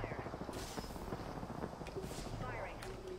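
Gunfire in the video game Apex Legends during a ranked match, dense bursts of rapid shots running throughout under a busy mix, with a player talking over it.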